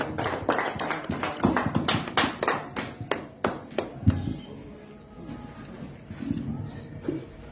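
Church congregation clapping hands in rhythm during a Dutch worship service, a run of sharp, evenly spaced claps that thins out partway, with murmuring voices and singing underneath.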